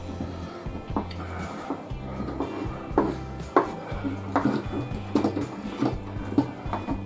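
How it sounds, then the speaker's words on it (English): Dried papaya and candied ginger being chopped with a knife on a board, a steady run of close, quick knocks and taps, with no talking. "I'm going to chop this a little bit."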